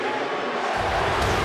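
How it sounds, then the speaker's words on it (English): Basketball crowd at Madison Square Garden during a Knicks home game against Kobe Bryant, a dense sustained roar of many voices that swells louder partway through, as if a chant is starting up. "Their MVP chant."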